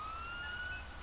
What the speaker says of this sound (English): 1301 and 1302 had normal sirens